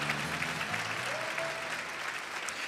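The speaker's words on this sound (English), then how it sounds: "Let's give another round of applause for our Teachers of the Year and the Sword Detail." Sustained audience applause at an evening awards ceremony honoring Teachers of the Year, steady clapping from a large crowd throughout with a faint murmur of voices mixed in.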